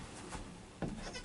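A newborn goat kid bleats, a short, thin cry near the end of a brief quiet stretch of farm ambience, with soft rustles before it.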